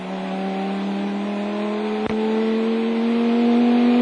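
A race car driven by Olivier Beretta on a circuit lap, its engine holding a loud, steady drone whose pitch climbs slowly, broken by one brief click midway.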